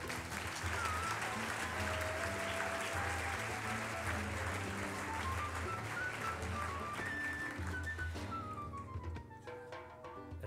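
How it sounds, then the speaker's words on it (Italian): Applause at a university's academic year inauguration for award-winning students, faint and steady under a low hum and tonal background sounds, thinning out toward the end. "Anche a loro un carissimo applauso."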